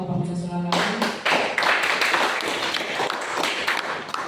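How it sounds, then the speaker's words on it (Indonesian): Crowd applause at a Pemuda Batak Bersatu regional work meeting in Deli Serdang, honoring chairman Musa Selalahi; dense sustained clapping erupts after a brief musical tone and continues loud and steady throughout. "Mungkin beri aplaus kepada ketua kita Bapak Musa Selalahi."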